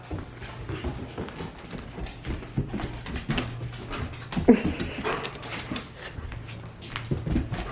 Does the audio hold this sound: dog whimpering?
yes